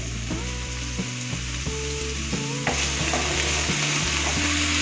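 Chopped green chillies, coconut pieces and curry leaves stir-frying in hot oil for lemon rice, a loud, steady sizzle with repeated scraping strokes of a spatula and a constant low hum beneath.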